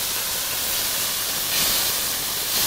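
Kung Pao chicken sizzles in a hot oiled wok over a Weber Master Touch charcoal BBQ. A dense, continuous hiss swells slightly midway, with no talk.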